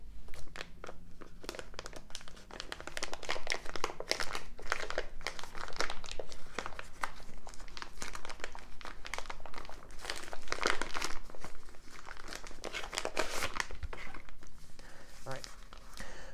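Close, crinkling plastic and paper wrapping is torn and pulled open around vintage bandage packaging in repeated rustling bursts, while a person talks throughout.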